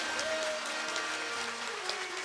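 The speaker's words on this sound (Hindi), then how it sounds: "जोरदार ताली बजा दीजिए" Loud, steady applause from a large audience at a Shrimad Bhagavat Katha religious discourse, dense clapping filling the space continuously without speech.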